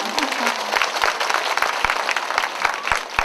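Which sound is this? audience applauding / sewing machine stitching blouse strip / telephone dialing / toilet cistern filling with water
audience applauding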